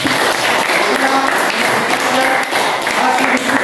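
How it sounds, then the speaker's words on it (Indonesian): A classroom of students claps for a presenting group, a loud, close burst of many hands with some voices talking over it. "Kita tepuk tangan untuk kelompok 2."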